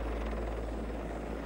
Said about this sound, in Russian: Тяжелый военно-транспортный вертолет Ми-6.